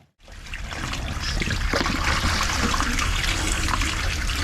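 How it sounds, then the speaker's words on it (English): Water trickles out of a hole, rising quickly into a steady, close gurgling flow that continues without talking. "the water's coming out"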